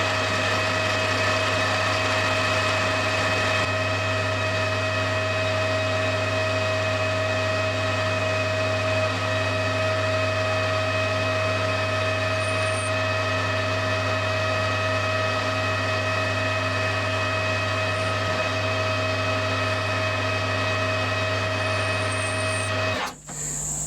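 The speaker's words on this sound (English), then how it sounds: "I'll just turn the spigot down to fit the small end, do the same there, and then flip it to do the back." A metal lathe runs steadily while turning down a spigot on a part for a Titan .60 glow plug model engine, a constant hum with tonal whine lasting throughout before abruptly stopping at the end.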